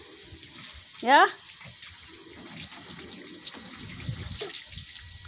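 A hose sprays water at a children's playground car wash, a steady soft hiss of water running beneath the chatter of a young child and an adult.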